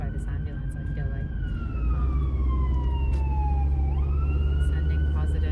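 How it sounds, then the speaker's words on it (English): An ambulance siren wails on a downtown Calgary city street, its tone sweeping slowly down and then jumping back up as it passes close by over loud traffic rumble. "I'm being chased by this ambulance, I feel like."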